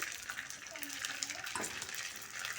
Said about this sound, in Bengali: সবগুলো আস্তে আস্তে আস্তে আস্তে ভেজে ফুলে যাচ্ছে